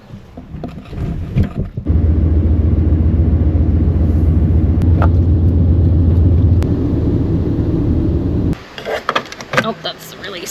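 An old heavy Chevy truck engine starts and runs, a loud steady low rumble for several seconds before cutting off, with clunks and rattles around it.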